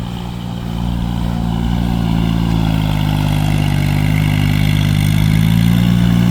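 A steady, loud engine drone from an L36 tractor tilling a rice paddy runs throughout, low and continuous with a slight rise in level after the first second.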